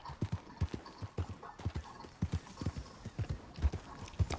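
A horse gallops in Red Dead Redemption 2, its hooves pounding in a steady, even rhythm, near and prominent, with no voices over the thudding.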